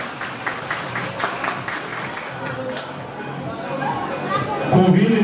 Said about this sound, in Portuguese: Parabéns à candidata, uma salva de palmas.